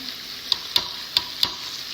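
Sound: tomatoes added to sizzling onion masala

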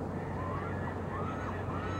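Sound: noisy geese honking at night by boat

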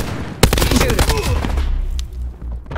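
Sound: gunfire in Call of Duty: Black Ops 4, a video game

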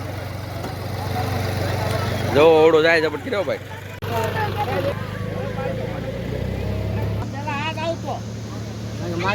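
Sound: four-wheel-drive tractor engine pulling boat into sea

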